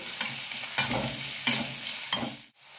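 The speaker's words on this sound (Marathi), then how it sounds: "श्रावण घेवडा, गाजर, अर्धा चमचा मीठ घालायचे आणि 1 ते 2 मिनिटांसाठी छान परतून घ्यायचे" Green beans and carrots sautéing with salt in hot oil for vegetable fried rice, a steady hiss broken by about four rhythmic stirring strokes, close and loud, with no voices.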